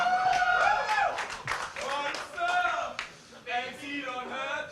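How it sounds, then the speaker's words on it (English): Crowd at a StarCraft 2 WCS European Premier League tournament chanting a song together, rhythmic sung voices with bursts of clapping that rise and fall, heard in a large hall. "The crowd is chanting a song."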